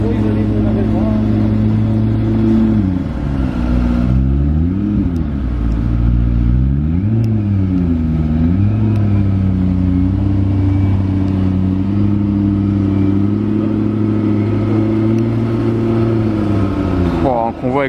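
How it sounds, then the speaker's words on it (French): A McLaren P1 supercar driving near a harbour, its engine loud and close, revving up and down in repeated surges before settling into a steady drone that cuts off sharply at the end. "Le retour de la McLaren P1."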